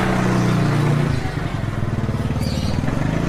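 A motorcycle engine drones loudly nearby, its pitch rising and shifting as it rides past, steady and continuous throughout.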